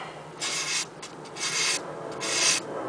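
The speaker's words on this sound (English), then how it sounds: "this sandpaper is so fine that it takes a little bit longer, depending on what kind of steel you got too" A steel knife is drawn across very fine sandpaper backed by cardboard, giving several close, loud gritty rubbing strokes in an uneven rhythm with short pauses between them.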